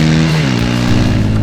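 A single-cylinder 150cc Bajaj Pulsar P150 motorcycle exhaust, loud and close, with a steady raspy engine note whose pitch dips slightly partway through and then holds.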